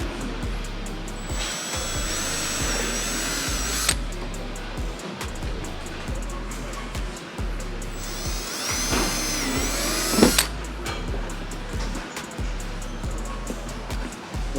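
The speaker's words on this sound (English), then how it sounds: "Drilling it out with a 1/4 inch drill bit." A power drill with a 1/4 inch bit whines steadily as it bores through material, with pitch rising in two long bursts and short pauses between runs.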